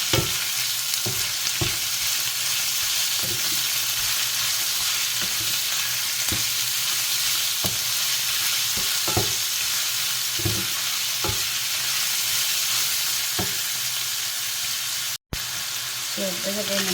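Chicken sizzles steadily in a hot pan with onion while a utensil stirs and scrapes it in repeated short strokes, close and continuous throughout.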